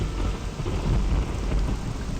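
Steady rain pours with rolling rumbles of thunder in the modded video game Morrowind, a dense, continuous storm bed with no voices.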